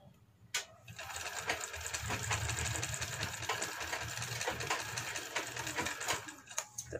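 Sewing machine stitching lace onto the back neck of a blouse, a steady rapid mechanical whirring run with a sharp click at the start and a few knocks near the end.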